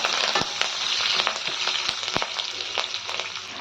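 Cumin, green chillies and curry leaves fry in hot oil with a continuous crackling sizzle and scattered sharp pops, close and fairly loud, with no speech.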